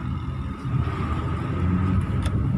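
A car engine labours under load in second gear after a downshift, a steady low rumble of around 2000 RPM droning close by throughout, with no voices.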